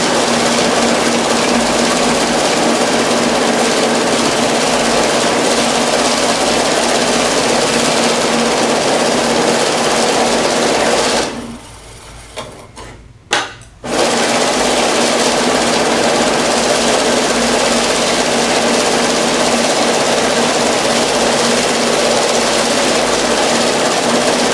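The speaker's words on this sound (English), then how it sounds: "We're going to start with a Zeus that has been well calibrated and demonstrate that the unit should count just fine." A Cassida Zeus bill counter runs through a stack of about 600 banknotes, a loud continuous mechanical whir that cuts out briefly near the middle, then resumes as steady as before, with no voices.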